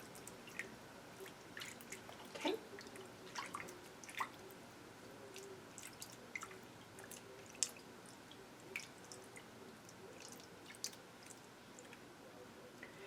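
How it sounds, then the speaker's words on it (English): A wig gently swished and patted in a basin of washing solution, faint wet squishes and small drips scattered irregularly over a quiet background. "you can gently swish and pat the wig down into the solution"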